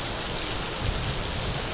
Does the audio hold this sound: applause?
no